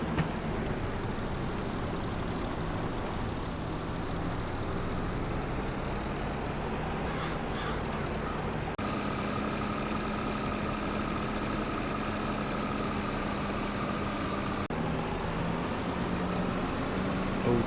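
Tractor engine in a farming video game, running steadily as it drives to a service station, a continuous low mechanical drone with a shift in pitch partway through and no talking.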